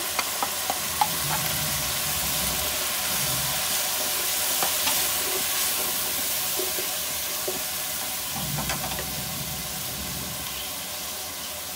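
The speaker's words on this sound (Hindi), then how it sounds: "5 मिनट तक अच्छी तरह मसाले को भून लेते हैं" Minced meat frying with salt, turmeric, ground red chilli, coriander, ginger and garlic sizzles steadily in a hot pan, a continuous crackling hiss with occasional soft stirring scrapes, no voices.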